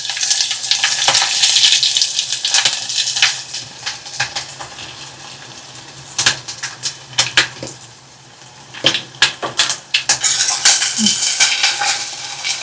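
Onion and garlic fry in a hot pan for fish curry, a steady broadband sizzle with bursts of stirring and utensil scrapes, louder crackling toward the end; no voices.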